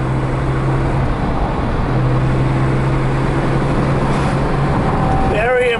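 A 1973 Mercedes-Benz 280 on a test drive near Laguna Beach, heard from inside as a steady, fairly loud engine and road drone with a low hum throughout, and no talk.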